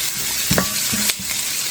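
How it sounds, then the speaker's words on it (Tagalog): Chicken and broccoli stir-fry sizzles steadily in a pan while a utensil scrapes and knocks against the metal a few times, close and loud. "Isote lang natin to guys."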